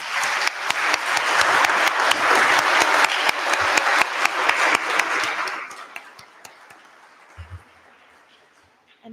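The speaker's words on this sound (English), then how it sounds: "So let's give them a round of applause." An audience applauds panelists on stage at a community event, loud sustained clapping for several seconds that thins out and fades to a few scattered claps.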